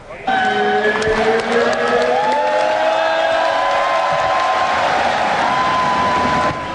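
Boxing fans crowded into a gym in Manila cheer and shout loudly, a continuous roar with rising whoops layered over it, along with some brief clapping.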